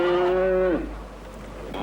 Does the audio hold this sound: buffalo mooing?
yes